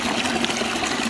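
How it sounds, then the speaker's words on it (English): Water pours steadily into a bucket as a supply line is restored at a water tower, a continuous splashing trickle without speech. "now it should be getting plenty of water down here"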